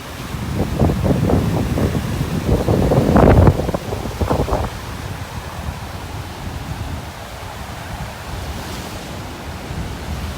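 Wind buffets the microphone with low rumbling gusts on a cloudy beach in North Naples, Florida, stronger in the first few seconds, then settling into a softer steady blowing.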